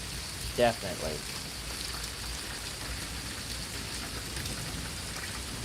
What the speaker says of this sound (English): So this rain makes up for it.